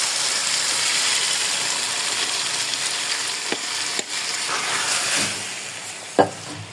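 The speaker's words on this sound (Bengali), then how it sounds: "এখন নেড়ে চেড়ে কষিয়ে নিচ্ছি।" Polao rice for chicken biryani sizzles steadily in a pan while being stirred, with a soft continuous frying hiss broken by a few sharp scrapes and knocks of the spoon.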